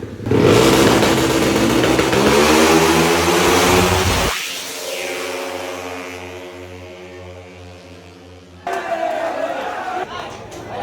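A racing motorcycle on launch control holds a loud, buzzing high rev limit, then drops to a lower idle with sharp backfire pops, followed by a renewed burst of revving. A crowd can be heard in the background.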